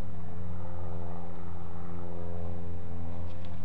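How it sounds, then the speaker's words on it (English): A distant single-engine aircraft drones steadily and continuously, a low humming engine tone with no breaks and no voices. "It must be miles away, but the drone of the engine is certainly"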